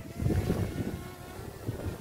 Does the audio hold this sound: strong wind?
yes